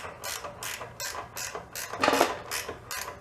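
A ratchet snugs up 11 mm nuts on a small utility trailer, a close series of quick clicking bursts in a regular back-and-forth rhythm, about eight strokes, with one louder rattle near the middle.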